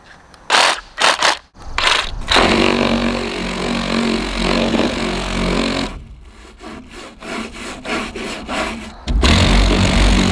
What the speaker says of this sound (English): here's this setup on the reciprocating saw